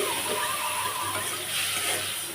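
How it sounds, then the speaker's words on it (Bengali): A brief splashing gush of water poured into a simmering curry pot, fairly close and steady, with no speech. "সামান্য পানি দিয়ে আমি"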